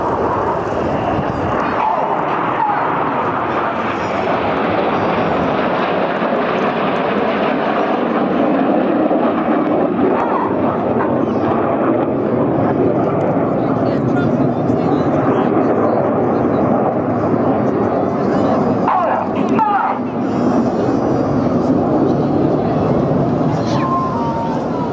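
Red Arrows jets roar at the Clacton-on-Sea air show as they fly formation rollbacks, a continuous loud, broad engine rush that rises and falls across the whole stretch, while an announcer talks over it.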